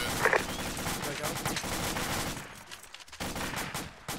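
Video game gunfire during a fireteam movement training exercise: sustained rattling bursts of rapid shots running through the whole stretch, briefly thinning out before picking up again, with voices talking underneath.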